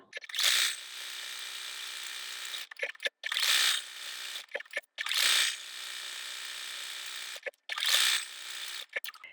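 A sewing machine runs a zigzag stitch around a milk appliqué shape in four close bursts of rapid mechanical whirring, separated by short pauses and small clicks.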